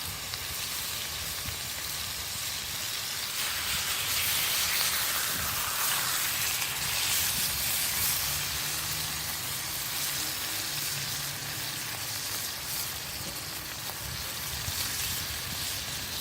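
Salisbury steak patties seasoned with A1 and Worcestershire sauce browning in a hot pan, giving a steady, close sizzle with a soft crackling hiss throughout and no talking.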